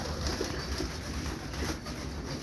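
High flyer pigeons coo softly and steadily at a modest distance, a low, continuous murmuring with no voices over it.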